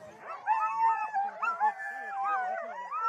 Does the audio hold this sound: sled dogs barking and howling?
yes